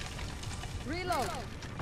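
Weapon reload in Call of Duty Modern Warfare: a quick mechanical clack and metallic slide of a magazine swap, one short burst of clicks over faint background game noise.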